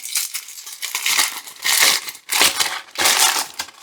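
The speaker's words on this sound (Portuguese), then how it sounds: "aqui um pedaço de papel manteiga, é para dar uma boa amassada" Parchment paper crumpled by hand in a kitchen, a loud, close, continuous crinkling and crushing in several vigorous bursts with brief pauses between them.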